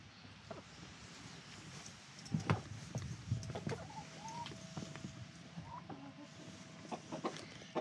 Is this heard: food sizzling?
no